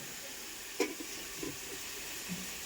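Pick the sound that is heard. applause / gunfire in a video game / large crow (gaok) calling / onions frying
onions frying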